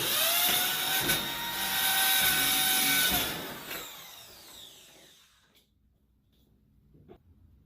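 A power drill bores a hole through a BallistiShield door panel into a crash bar, whining loudly for about three seconds, then spinning down and stopping, followed by faint handling clicks in the quiet.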